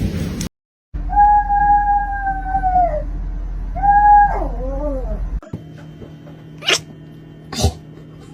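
A kitten gives a couple of long, drawn-out meows close by, each sliding down at the end, followed by quieter short sounds, with no talking.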